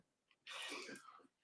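A single sneeze, close and fairly quiet, a short breathy inhale followed by a sharp burst that trails off within about a second.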